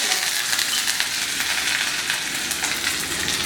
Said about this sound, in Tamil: இதை வந்து தாளிச்சு பண்ணிடலாம்